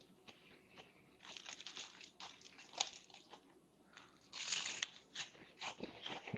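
Crisp bites into shallot and shiitake tempura, several crunchy snaps and crackles of batter spread over a few seconds, close and fairly quiet with no talk.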